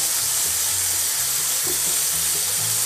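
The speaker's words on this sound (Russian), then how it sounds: "Сейчас уже будем с вами жарить." Lamb pieces frying in a hot pan, a steady close sizzle with faint clinks and shifting of the meat, no talking.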